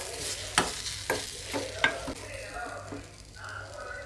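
Spiced potato masala with torn curry leaves is stirred in a pan, several distinct spatula scrapes over a soft background sizzle, close and fairly quiet with no talking.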